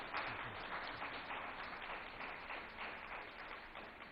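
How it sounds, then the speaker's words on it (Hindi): Crowd applause at a televised news summit as a deputy chief minister is welcomed on stage; steady, fairly faint clapping with murmuring and hall noise throughout. "एक बार जोरदार तालियां बजा दीजिए"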